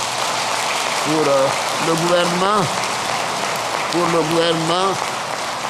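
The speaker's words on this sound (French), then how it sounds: "cela mérite vraiment des applaudissements" Steady applause from an audience at an official gathering in Côte d'Ivoire, a dense clapping wash running under someone speaking French throughout.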